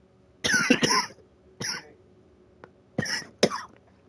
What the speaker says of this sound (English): hold on guys, I have another cough coming in.